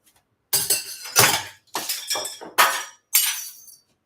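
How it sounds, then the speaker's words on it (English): A drinking glass breaking indoors, with a loud crash followed by a rapid series of sharp shattering and tinkling bursts as shards scatter, close and clear with no talk. "I just broke a glass. Did you guys hear that?"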